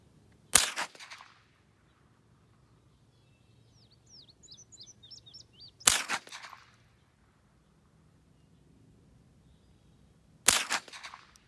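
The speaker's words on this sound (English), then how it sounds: "Take off the safety, aim down range, fire." Three single rifle shots fired down range ring out sharply, spaced about five seconds apart, each with a short echoing tail, over quiet outdoor background with faint bird chirps between.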